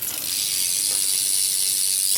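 A Haro rear hub on a bike with a Ross tire gives a fast, continuous ratchet-pawl clicking that blurs into a loud, steady buzz, heard alone and up close.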